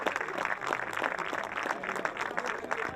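A crowd claps for a football player at a club event, a short steady patter of applause with no breaks.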